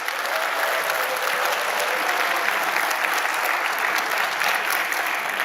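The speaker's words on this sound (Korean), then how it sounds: "여러분 한번 축복의 박수 부탁합니다." A church congregation applauds children during a live worship service, giving a steady, dense wash of clapping from many hands that holds at an even level throughout, with no speech.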